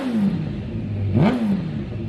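Honda CBR1000RR sport bike engine revved, a close, loud exhaust note that dips and then sweeps up in a sharp blip before settling back, heard alone.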